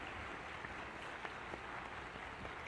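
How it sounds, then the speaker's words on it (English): Extended applause from a convention audience, faint and distant, a continuous even patter of many hands that neither swells nor fades. "when you see extended applause like this"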